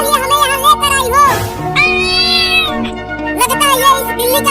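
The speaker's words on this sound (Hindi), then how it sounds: "मुझे तो वो बिल्ली का बच्चा लग रहा है।" A kitten meows repeatedly, close and clear, in high wavering cries with short pauses, while children talk around it.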